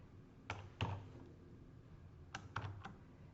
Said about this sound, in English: I'm just typing in my new password that I created.